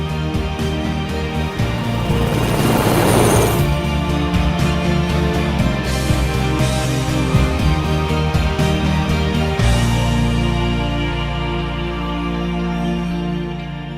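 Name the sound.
UH-60 helicopter with FastFin flying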